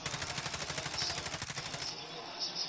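Rapid automatic gunfire in Call of Duty Warzone rattles off in a steady fast burst for about two seconds, moderately distant and fairly quiet, then cuts off, leaving a faint tail of game ambience.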